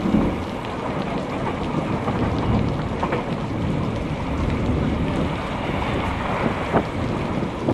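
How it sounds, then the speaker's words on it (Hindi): Steady, heavy rain pours continuously, a dense roaring hiss with occasional louder drops and faint rumbling underneath. "दोपहर के बाद से ही जोरदार बारिश शुरू हो गई थी।"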